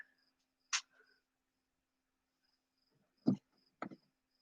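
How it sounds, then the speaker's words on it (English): Insects chirp in short, separate bursts outdoors, with three or four brief raspy calls spread out over quiet stretches and a faint steady hum underneath. "Fucking bugs."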